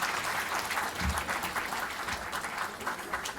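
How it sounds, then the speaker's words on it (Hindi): A crowd applauds at a ghazal celebration event, an even, continuous wash of clapping heard at moderate distance with a low bump near the middle. "आपकी तालियां बजाएंगे।"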